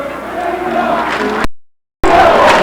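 Large home football crowd of North Bergen fans chanting loudly at a 1994 high school game against Hackensack, a roaring massed chant close by that cuts out briefly and then resumes.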